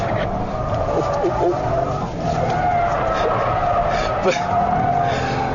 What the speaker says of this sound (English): there's smoke firing out of the back of the car as the inside wheel spins away